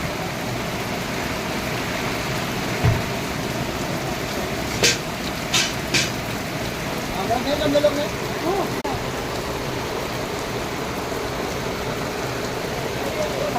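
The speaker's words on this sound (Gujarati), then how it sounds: "વરસાદ તો જો" Heavy rain pours steadily around a home where floodwater has risen over the steps, a constant dense hiss with a few brief knocks and clatters mid-way.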